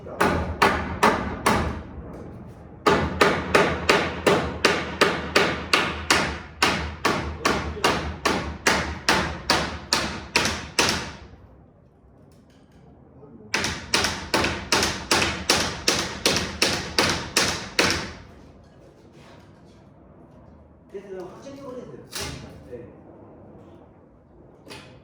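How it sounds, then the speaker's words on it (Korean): A hammer strikes repeatedly during carpentry demolition of a temporary wall, with two long runs of rapid, evenly spaced, loud blows close by, separated by a pause and followed by scattered quieter knocks. "그것도 망치로"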